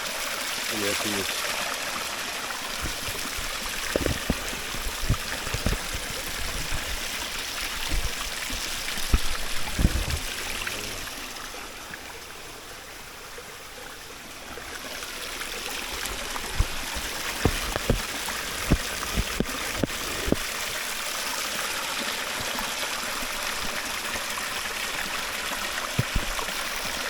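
A river in rural Jamaica flows near a waterhole with a constant broad rush of water close by, with occasional small splashes and knocks over the top.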